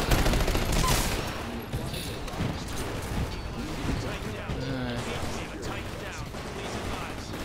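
Rapid bursts of gunfire from the Xbox One shooter Titanfall, dense and continuous with overlapping shots and mechanical clatter across the whole stretch, loud and close with no speech over it.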